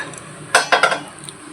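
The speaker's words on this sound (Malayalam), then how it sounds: "ഒരു പാന് വെച്ച് കൊടുത്തിട്ടുണ്ട്" A frying pan is set down on the stove to fry banana fritters in coconut oil, making a close, bright metallic clatter of three quick clanks in a row, then a faint ringing tail with no talk.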